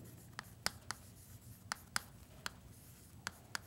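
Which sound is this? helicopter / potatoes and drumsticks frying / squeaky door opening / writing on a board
writing on a board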